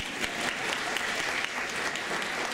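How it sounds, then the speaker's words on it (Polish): Steady applause from an audience at a Silesian carnival-season comedy show, dense, even clapping running through the whole moment with no talking over it. "Oklaski dozwolone."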